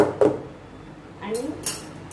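A cooking vessel of dhokla batter is tapped to settle it, giving a few sharp metallic knocks, one early and two close together near the end, with quiet kitchen room tone between.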